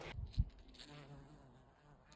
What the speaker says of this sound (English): you've got all these wonderful little friends buzzing around and beautiful flowers